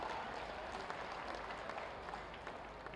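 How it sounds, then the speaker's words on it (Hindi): A crowd at an outdoor inauguration ceremony applauds in a steady wash of clapping, faint and distant, with no clear voices over it. "और इस शुभ घड़ी के लिए जोरदार तालियां होनी चाहिए।"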